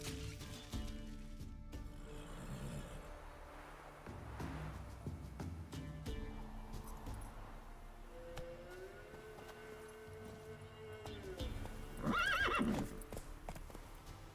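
Roach, Geralt's horse in The Witcher 3, whinnies and neighs amid hoofbeats and game ambience, with a louder, shrill whinny burst near the end.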